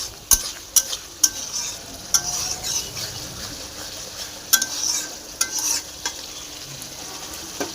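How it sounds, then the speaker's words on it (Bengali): Spice masala stirred and fried in a pan, a steady close sizzle broken by sharp scrapes and clinks of the spoon against the pan, with no talking. "মশলাটাকে ভালো করে কষতে হবে"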